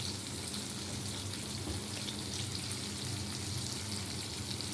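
Potatoes sizzle steadily in a hot pan after spices have been tempered, a continuous dense frying hiss with no pauses.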